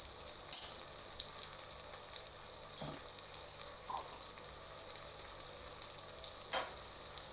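Jollof rice cooks in a pot with crushed garlic just added, giving a steady, close sizzling hiss with a few faint knocks and stirring sounds and no talking.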